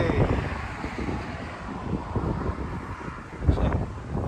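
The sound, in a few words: wind blowing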